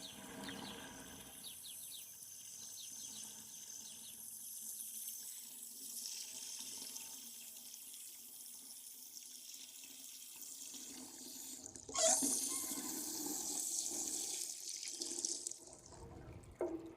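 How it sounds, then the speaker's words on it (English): Water running steadily from a hose onto a newly planted hydrangea in a garden, a continuous soft hiss and splash throughout, with a brief louder gush partway through and light clatter near the end. "I'll just water this in really good and slow."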